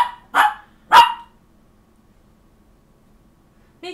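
A dog barks sharply twice in quick succession, close and loud, then falls quiet before a short third yelp at the end, with near-silence in between in an indoor setting.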